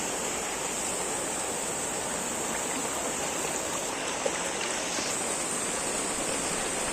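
Knee-deep floodwater after heavy rain in Nalasopara, near Mumbai, gives a constant broad rushing wash that never lets up, close and fairly loud with no voices.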